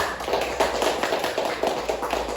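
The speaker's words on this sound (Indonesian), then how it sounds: "Kita beri tepuk tangan dulu untuk kelompok 1" Scattered, modest clapping comes from a classroom group of students applauding a presenting group, moderately loud and continuous over a couple of seconds.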